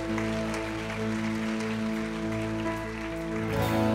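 Steady crowd applause fills a church youth service, clapping continuously under a sustained band backing of held chords, with a brief swell near the end.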